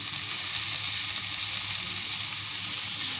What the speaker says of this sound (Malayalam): ഇനി നമുക്ക് ഒന്ന് അത്യാവശ്യം വഴണ്ട് ഇതിലേക്ക് ശകലം ഉപ്പിട്ട് കൊടുക്കാം